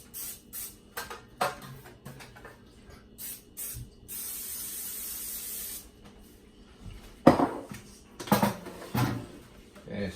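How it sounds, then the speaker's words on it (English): Several short hissing bursts of cooking spray, one sustained for about two seconds, mixed with clicks and light handling noises close by. "you want to spray your pan"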